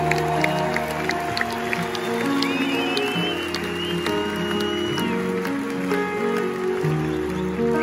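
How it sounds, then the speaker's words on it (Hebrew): A concert audience at Menora arena claps and cheers in sustained, dense applause while stage music keeps playing underneath, filling the whole stretch at steady loudness. "תעשו להם כפיים, מגיע להם כפיים."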